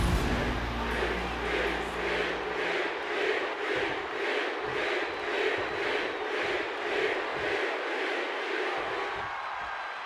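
Arena crowd in WWE 2K25 buzzes and chants in a steady rhythmic roar ahead of a Damian Priest versus Jey Uso match, loud and continuous.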